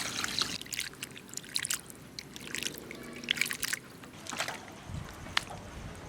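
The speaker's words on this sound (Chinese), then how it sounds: "倒水洗一下" Water splashes and trickles over sliced beef in a bowl as it is rinsed, with several short pours and drips close by, fairly quiet.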